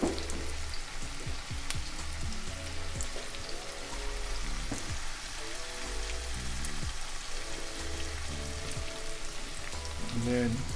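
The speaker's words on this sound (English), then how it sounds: "Just gonna let that accumulate and sizzle." Diced golden potatoes sizzle and crackle steadily in a hot frying pan, a dense close-up hiss with occasional scraping stirs and faint background music, no voices.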